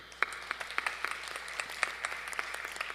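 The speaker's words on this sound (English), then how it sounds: "Please join me in another huge round of applause for these gifted musicians" An audience applauds musicians at an Arangetram, a classical Indian dance debut, with a few seconds of scattered, moderately close hand claps and sharp individual slaps rising out of the crowd.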